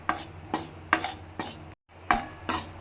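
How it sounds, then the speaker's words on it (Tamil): Finger millet dry-roasting in a kadai is stirred with regular scraping strokes about every half second, with a short pause midway, close and clear against a faint background hum. "இப்போ நான் கேழ்வரகு வறுத்துடணும்"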